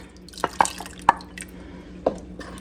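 Tempered half and half is poured back into a pot of food, making a few sparse drips and small liquid splashes, close and fairly quiet.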